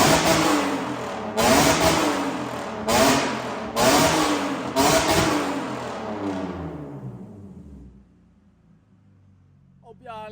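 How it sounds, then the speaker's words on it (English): Exhaust of an abandoned drift car, close and loud, revving in four or five sharp bursts, each falling back between blips, then dropping to a quiet idle. "Almost forgot a little exhaust note for y'all."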